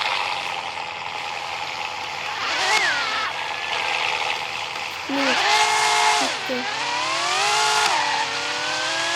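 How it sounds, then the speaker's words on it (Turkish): A Mini Cooper in a video game revs its engine, rising and falling in pitch through a few surges, with a steady synthetic motor drone and game background throughout. "Mini Cooper aşağı geliyor arkadaşlar."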